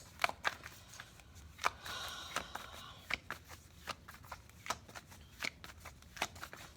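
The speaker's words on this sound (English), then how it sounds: "we're going to go ahead and pull a few Oracle cards for you guys" Oracle cards are shuffled during a tarot reading in a series of soft, crisp riffles and snaps. The sharp flicks repeat at an uneven pace over a quiet background.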